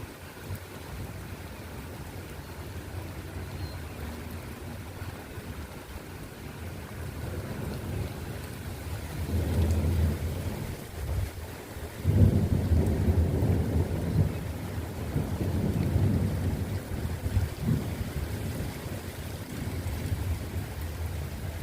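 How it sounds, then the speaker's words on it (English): A thunderstorm with a flash flood warning, steady rain and wind under low rolling thunder that swells into heavier rumbles partway through, with no talking. "we're the only city that's having a thunderstorm, which is crazy."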